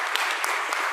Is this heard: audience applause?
yes